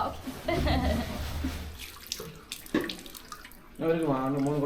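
Water is poured and splashes during a housewarming ceremony at a home. The splashing is close and steady, broken by short gaps, while people talk nearby.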